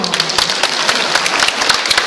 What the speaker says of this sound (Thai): วันนี้ขอเสียงปรบมือกับเอริก้าวิวค่ะ